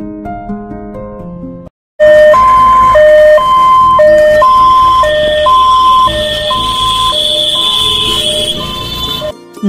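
Ambulance siren from an ambulance service in Durgapur, a loud, close wailing two-tone pattern repeating steadily after a short opening tone, with no one speaking.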